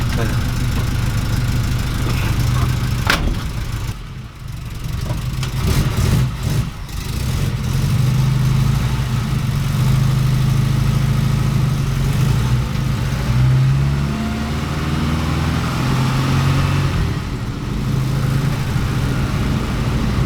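A 1969 Ford Capri engine running during a short test drive, a steady loud in-car drone with mid-pitched engine tone and a brief rev change partway, heard close throughout.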